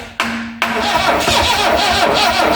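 An old Vauxhall Magnum engine, unrun for 37 years, catches after a cranking start, then runs loud and rough nearby, its roar rising and holding with a ragged, uneven note.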